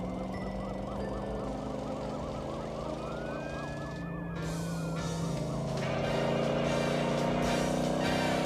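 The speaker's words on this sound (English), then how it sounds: "A real crime with cops and sirens and everything." Cartoon police car siren wailing in a rising and falling pattern over background music, growing louder toward the end as if approaching.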